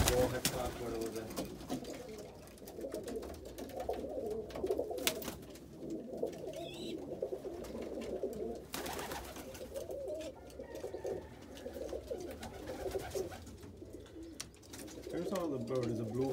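Pigeons coo in a freshly cleaned loft, soft repeated throaty calls rising and falling close by, with a person talking over them at times.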